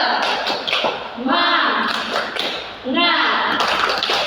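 A class of children performs a rhythmic group spirit clap, bursts of claps keeping a set beat while young voices chant along in unison, close and lively.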